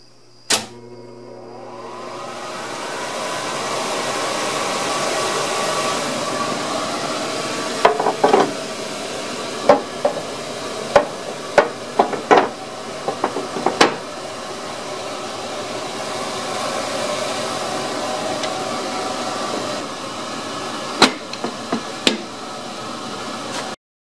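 A Monarch 10EE lathe with control issues spins up from a thump into a steady whirring hum, and scattered sharp clicks and knocks sound over the running motor before it stops.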